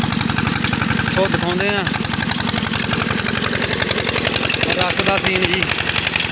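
A Peter 20 horsepower engine drives a desi sugarcane crusher, its steady rapid thumping pulse loud and continuous throughout, with someone talking over it and brief higher squeals from the crusher.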